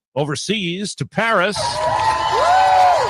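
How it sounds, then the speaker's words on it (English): Crowd cheering in Paris for mayor Anne Hidalgo as she swims in the River Seine, a steady roar of voices and whoops heard after a brief spoken line, with a whistle-like rising tone. "where a crowd cheered the mayor"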